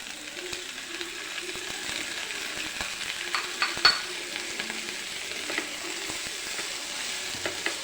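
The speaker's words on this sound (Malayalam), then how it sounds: "തക്കാളിയും കൂടി നല്ലപോലെ ഒന്ന് വഴരട്ടെ." Tomatoes and onions sautéing in a pan for an egg roast, a steady soft sizzle with scraping and tapping from stirring throughout, close and moderately quiet.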